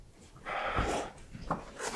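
A dog gives a couple of short, close snuffling whimpers and breathy snorts, with no talking over them.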